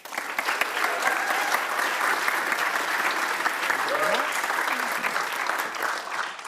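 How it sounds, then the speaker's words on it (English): Sustained, steady applause from a conference audience at an innovation day event, dense and even throughout without a break. "with the warmest round of applause yet"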